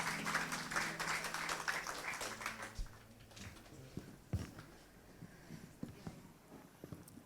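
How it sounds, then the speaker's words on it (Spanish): A church congregation claps after worship, a dense burst of applause that fades after about three seconds into scattered claps and low room noise. "Un aplauso"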